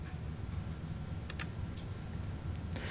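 A computer mouse clicks a few times while a Roland Sonic Cell editor is operated in ProTools, the sharp light clicks faint and scattered over a steady background hiss.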